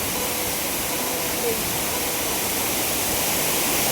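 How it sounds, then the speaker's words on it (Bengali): Pungkhlieng waterfall on the Sohra-Shella road, a loud, constant broadband roar of falling water heard close by. "এই ফলসটা সুন্দর একদম উপর পর্যন্ত উপর থেকে ওই যে জলটা আসছে ওখানে"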